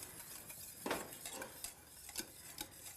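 A whisk stirring a thickening vegan vanilla gelato base in a pot, with scattered soft scrapes and taps against the metal over a quiet background, no voices.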